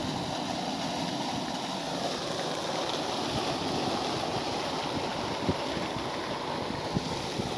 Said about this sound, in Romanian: Doar uitați-vă la această cascadă, este absolut superbă.